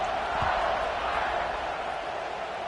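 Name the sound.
stadium crowd buzzing in college football video game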